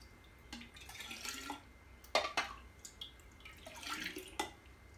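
Water trickles and splashes into a pitcher in short bursts while making hibiscus tea, with light drips and clinks, fairly quiet and close.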